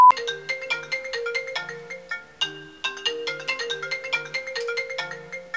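A melodic phone ringtone plays loudly and close, a bright repeating tune of plucked notes with a steady bouncy rhythm.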